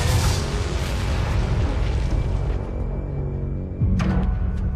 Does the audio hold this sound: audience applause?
no